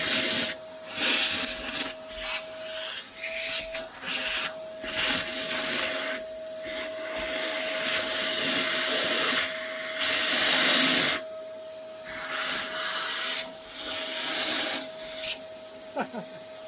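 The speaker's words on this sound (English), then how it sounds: "I tried to vacuum clean it" A vacuum cleaner sucks a mouse nest out of an engine carburetor, with loud intermittent bursts of rushing suction over a steady underlying whine, close to the listener.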